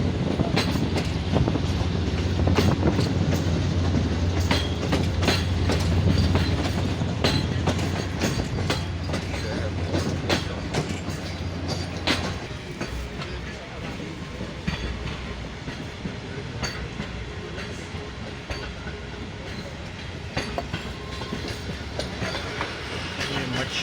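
A passenger train on the Jaffer Express in Balochistan rumbles steadily along the rails, wheels clacking rhythmically, loud and close throughout with a low hum fading partway.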